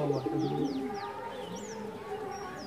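Large pigeons coo low in a loft, with quieter rising and falling chirps from other birds layered above at moderate distance.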